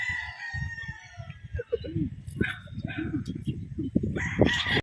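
A young gamefowl stag rooster crows at a game farm, its hoarse call standing out near the middle, with clucking and yard noise around it and a voice talking in the background.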